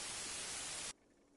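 Steady broadband white noise hissing behind a sleeping dock worker in Disco Elysium, loud and even, then dropping sharply to a much quieter hiss partway through.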